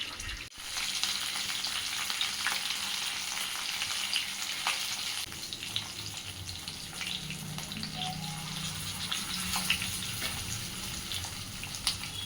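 Fish for fish curry fries in oil with a continuous, fairly loud, close sizzle and crackle that holds steady throughout, with occasional small pops and no voices.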